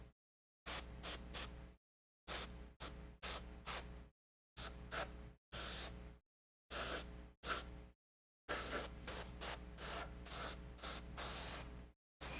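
Airbrush spraying acrylic paint onto a miniature in a series of short hissing bursts, some clipped and quick, others held longer, separated by brief silences, close and crisp.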